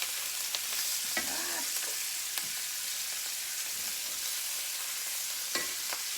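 Spinach-and-cheese stuffed chicken breast fries in oil and grease in a pan, with a steady close hiss of sizzling throughout and a few brief scrapes and clicks as it is flipped.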